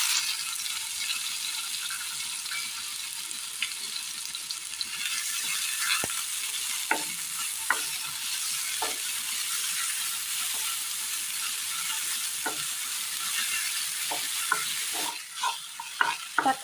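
Chopped tomatoes fry in oil in a pan, making a constant bright sizzle broken by scattered sharp taps and scrapes as they are stirred.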